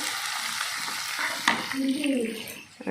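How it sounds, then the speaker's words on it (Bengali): Onions fry in a pan at home with a steady sizzle and some stirring. A sharp clink sounds midway and a faint voice-like murmur is heard near the end. "এখানে হচ্ছে মাথার জন্য পেঁয়াজ ভাজা হচ্ছে"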